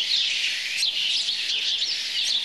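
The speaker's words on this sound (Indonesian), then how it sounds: "banyak kafe yang mengganti musiknya dengan suara kicauan burung seperti ini" Recorded birdsong played over a café's sound system in place of music, a dense, continuous chorus of high chirps and tweets at steady loudness with no voices.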